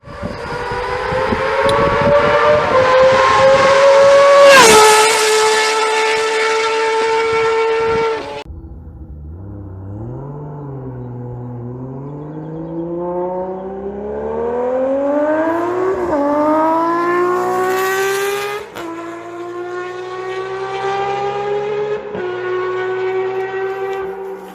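A Honda CBX 1050 six-cylinder DOHC motorcycle engine revs loudly and up close, holding a high, smooth multi-toned wail, then dropping to a lower note and climbing again through several rising revs with sharp blips.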